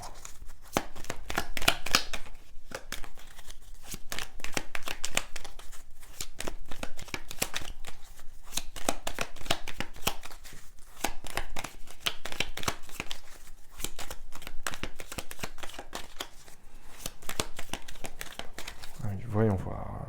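Tarot cards being handled and laid out on a table, a steady stream of close papery shuffles, flicks and slaps under continuous talking.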